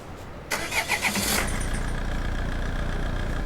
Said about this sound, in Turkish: Motor sesi Skoda'dan farklı şöyle